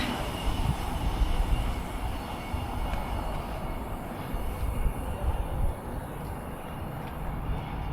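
A train runs through Alfreton railway station, heard as a steady low rumble and roar with some wind noise. The sound stays fairly constant throughout, with no voices.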